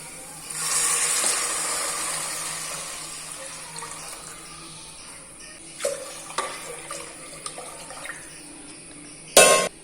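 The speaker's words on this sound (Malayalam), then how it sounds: "ഇതിന് രണ്ട് പാട്ട വെള്ളം ഒഴിച്ച് കൊടുക്കാൻ" Water splashes as it is poured into a pot for a couple of seconds, followed by scattered clinks and a final knock.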